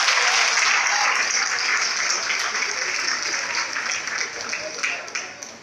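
Crowd applauding at a bachelors' welcome and reception ceremony, a dense sustained clapping that carries on throughout with scattered cheers and voices mixed in, gradually thinning toward the end.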